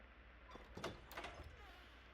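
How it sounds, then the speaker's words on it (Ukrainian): Small cabinet doors opened in the game S.T.A.L.K.E.R. 2, a faint mechanical creak and a few soft clicks and scrapes over quiet background hum, with no voices. "А, це відкрити дверці"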